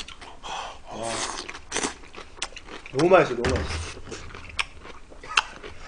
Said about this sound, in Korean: 옆에서 직접 씹는 거 들으니까 너무 신기해요.